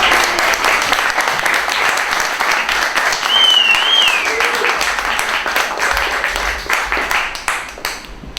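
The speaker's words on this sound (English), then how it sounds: "Let's give him a better applause." An audience at a magic camp show on an island breaks into sustained applause, dense clapping that swells and then tapers off near the end, with a whistle rising above it.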